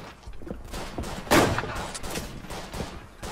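Gunfire from a World War I battlefield in the video game Verdun, with a sharp, loud report standing out near the middle amid a steady din of more distant shots and battle noise.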